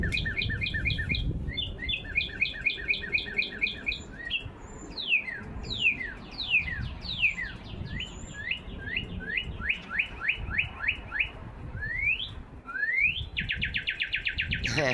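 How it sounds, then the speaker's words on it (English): Real wild birds chirp and sing outdoors in a lively chorus of repeated tweets and rising whistled calls, layered over one another and fairly close, with no talking. "You hear the real animal, the real bird?"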